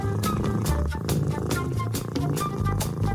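A cat purrs close by in a soft rhythmic rumble, with brief rustling sounds over it.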